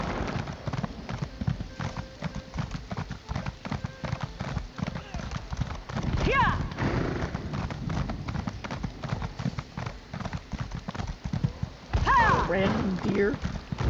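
In a video game, horses' hooves clip-clop steadily along a road at a walking pace, close and continuous, with louder bursts of movement and jingling partway through, while game voices talk over the hooves.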